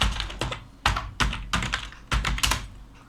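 Keys clack on a computer keyboard in quick bursts, with several clustered strokes spaced through the moment, close and fairly loud with no voices.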